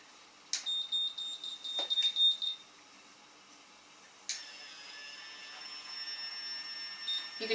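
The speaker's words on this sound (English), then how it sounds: "When you hear the repeated beeps, you lift and release." Small electronic beeps repeat in short bursts from a nearby Babyliss Curl Secret automatic curling iron, followed later by a steadier high tone with faint handling noise.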